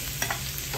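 Shrimp dropped into a hot pan for Pinoy-style fried rice with frozen green peas, giving a brief steady sizzle with a couple of light scraping taps.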